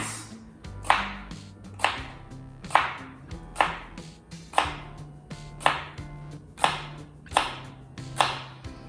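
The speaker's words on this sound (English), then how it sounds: "we're going to take our jalapeno and we're just going to do some slices" Knife cutting a jalapeno into slices on a board, producing about a dozen evenly spaced, sharp chopping taps in a steady rhythm.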